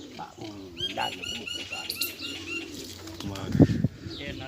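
Pigeons coo and flap their wings nearby, with a loud burst of wing beats near the end, while people talk over the birds.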